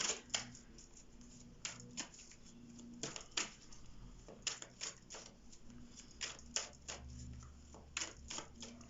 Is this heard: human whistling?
no